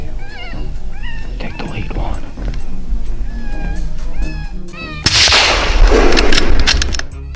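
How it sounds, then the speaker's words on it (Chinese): An electronic predator caller used as a lure on a coyote hunt plays repeated warbling, cat-like animal distress cries at moderate volume, followed by a sudden loud, harsh burst that fills the final seconds. "诱捕器还在持续地发出声音"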